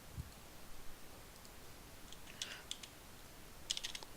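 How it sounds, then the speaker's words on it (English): Faint, sparse clicks of typing on a computer keyboard during an esports match broadcast, a few scattered keystrokes and short bursts against a quiet background. "I'm typing in the chat bands"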